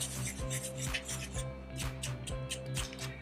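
Fork or whisk beating eggs inside a well of flour for pasta dough, a rhythmic scraping and rubbing against the work surface, repeated strokes roughly twice a second, close.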